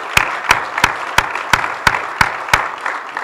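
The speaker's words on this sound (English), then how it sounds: "that deserves a round of applause" A small audience at a community gathering for Jason Walker claps together in a steady, rhythmic beat of sharp, evenly spaced hand claps, loud and close over a soft bed of scattered clapping.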